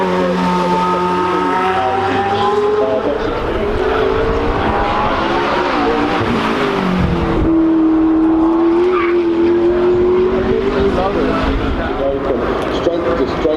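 McLaren 720S supercars climb the hill at the Goodwood Festival of Speed, engines revving with rising and falling pitch, loud and continuous under a commentator's voice.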